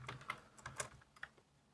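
Quick keystrokes on a computer keyboard, a handful of light clicks in an uneven burst, close and fairly quiet with no voice.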